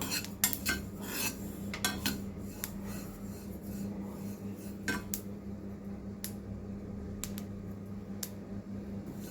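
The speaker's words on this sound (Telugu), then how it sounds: "నువ్వుల్ని డ్రై రోస్ట్ చేస్తున్నానండి" Sesame seeds dry roasting in a pan, stirred with intermittent scraping and rasping clicks of a utensil against metal over a steady low hum, close and moderately loud with no talking.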